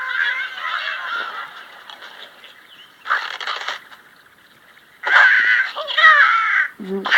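Cartoon bird squawks and honking cries from the video game Angry Birds 2, coming in several loud bursts separated by quieter stretches, with a low grunt at the end.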